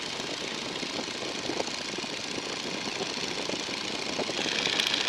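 A 1942 Boeing Stearman biplane engine at cruise power, a steady droning roar heard from inside the open cockpit, constant and unbroken throughout.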